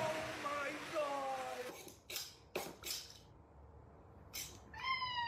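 A cat meows several times in drawn-out, rising calls, with a few sharp clatters in between and another meow at the end.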